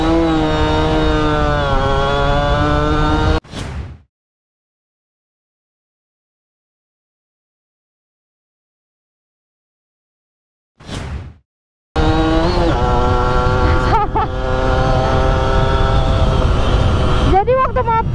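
Yamaha F1ZR two-stroke motorcycle engine revving hard and loud, with rising harmonic whines through gear changes, cutting out abruptly for several seconds of silence before roaring back with more revving.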